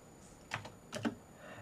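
Two short bursts of keystrokes clatter softly on a Razer computer keyboard, a few quick clicks each, near but faint, with quiet between.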